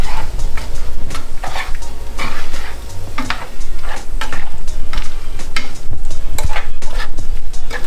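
Shrimp and corn sizzle loudly in a pan up close, with a continuous frying hiss and repeated scraping, stirring strokes against the pan's surface, and no voices.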